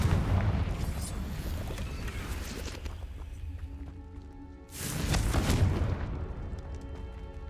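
A Confringo explosive spell cast in a video game bursts out in a loud, broad blast near the middle, rising over continuous game ambience and fading into a ringing, rumbling tail.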